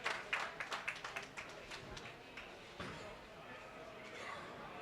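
Crowd applause at a senior men's singles bowling championship: a burst of sharp claps that thins into scattered clapping and general hall noise, with a voice talking over it.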